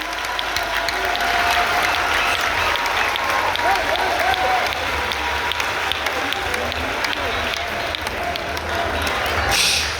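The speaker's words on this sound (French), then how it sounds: "Come on, clap now." An audience at a Neolife event in West Africa applauds: dense, loud, sustained clapping from a large crowd that holds steady throughout, with scattered voices mixed in.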